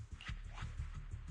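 A small dog in the video game Zenless Zone Zero gives a few soft yips and whimpers, faint and close, with no speech over them.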